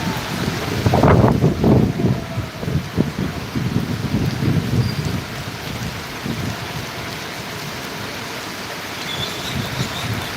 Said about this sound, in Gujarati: ગોંડલ માર્કેટ યાર્ડમાં વરસાદ પડી રહ્યો છે ધોધમાર